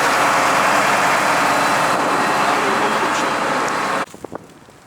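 A combine harvester engine runs in frosty weather with a loud, steady low rumble close by, then cuts off abruptly near the end, leaving faint knocks.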